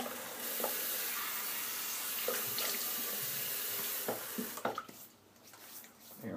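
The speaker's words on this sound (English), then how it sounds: "Get a drink of water here." Tap water runs steadily into a sink for several seconds, a continuous hiss and splash that stops abruptly, followed by faint clinks and handling sounds.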